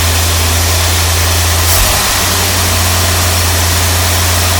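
A 1981 Chevrolet Corvette C3 engine idles steadily after long storage, with a loud, constant low rumble and a brief bump near the middle and no talking.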